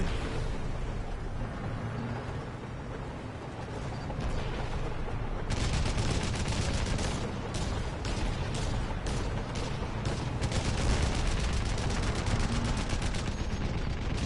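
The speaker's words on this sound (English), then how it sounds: "I don't like how many tanks are shooting at me." Dense, continuous gunfire and booming cannon fire from tanks in the video game Crysis, a loud, sustained barrage with rapid bursts layered over rumbling blasts, unbroken for the whole stretch.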